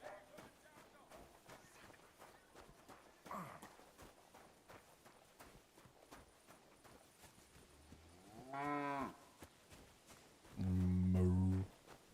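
A cow moos twice, the first drawn-out call moderately loud and the second louder and fuller, after a stretch of quiet, scattered background noise.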